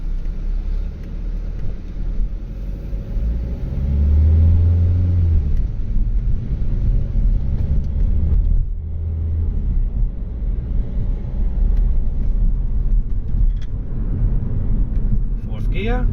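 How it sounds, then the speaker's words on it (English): A Peugeot Citroen C4 with an ABS/ESP and gearbox fault drives along the road, a steady low engine and road rumble that swells briefly as it pulls, with a voice talking over it. "so let's go for a drive"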